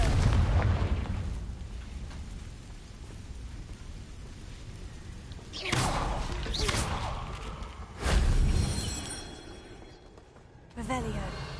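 A Confringo explosion spell goes off in a Harry Potter video game, landing as several loud booming bursts with a crackling tail, spaced a couple of seconds apart over a steady rumbling game background.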